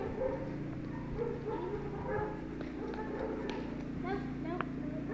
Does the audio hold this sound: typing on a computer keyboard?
no